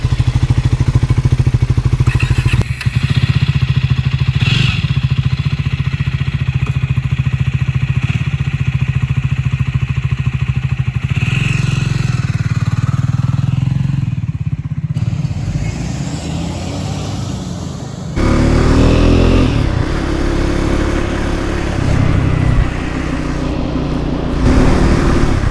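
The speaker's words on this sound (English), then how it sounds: "Let's get my lid on and take her out for a spin." A Triumph Scrambler 400 X motorcycle engine runs loud and close as the rider heads out, a steady rumbling drone that shifts in pitch partway through and carries on with road and wind noise.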